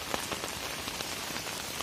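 Heavy monsoon rain pours down in a rural village by a canal, a dense, steady hiss of drops striking water and ground at close range, with no voices.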